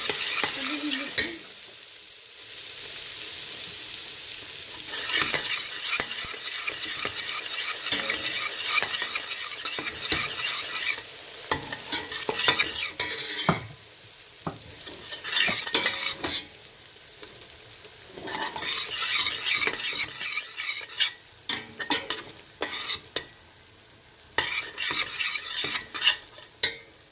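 Orange halwa stirred as it fries in a pan, with peeled orange mixed in: continuous sizzling hiss broken by repeated scraping strokes of a utensil against the pan, close and moderately loud, with no talking.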